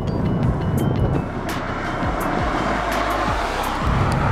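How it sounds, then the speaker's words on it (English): A 2015 Subaru WRX turbo engine and exhaust grumble loudly and continuously from inside the car, with steady road roar and brief whooshes of turbo and shifting. "you can really hear that turbo noise. You can get a great grumble from this exhaust."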